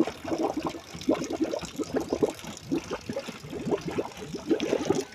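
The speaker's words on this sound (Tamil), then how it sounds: "இங்கே பாருங்கள் கொஞ்சம் தண்ணி நம்மனது அதுவே ஆட்டோமேட்டிக்காக வெளியே வந்துகிட்டே இருக்குது தண்ணி" Water trickles steadily out of the overflow of a fridge-box aquarium housing guppies, a close, continuous dribbling and splashing with small irregular pulses and no talking.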